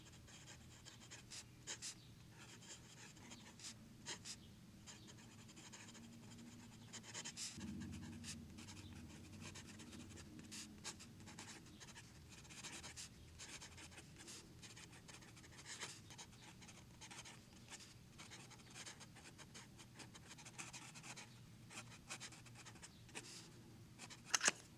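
Pen writing in a Hobonichi planner, with faint soft scratching strokes in scattered short bursts over a quiet room hum and a brief low rumble partway through.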